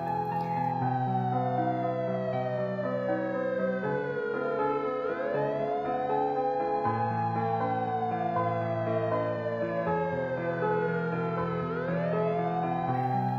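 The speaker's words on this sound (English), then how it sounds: "ran to him and called the ambulance" A loud emergency siren wails continuously, rising and falling in slow sweeping cycles, close and unbroken, with no voices.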